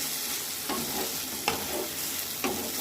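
Whole poppy seeds stirred into a frying Bengali chorchori vegetable mix in a pan, giving a loud, continuous hiss with three distinct scraping stirs spaced about a second apart, close up and without talk.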